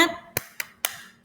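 A group claps a rhythmic spirit chant in a webinar, three sharp separate claps spaced evenly and a fourth starting, with a voice trailing at the start.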